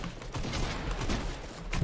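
Dense, continuous burst of video game gunfire during a multiplayer shootout, steady and loud throughout with no clear gaps, sounding close and busy.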